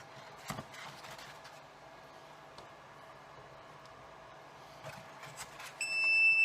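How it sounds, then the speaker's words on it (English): A high electronic egg incubator alarm starts beeping near the end, loud and steady, signalling a temperature drop, after quiet background shuffling and faint knocks. "There goes the alarm, telling me that all the temperature and everything's dropping."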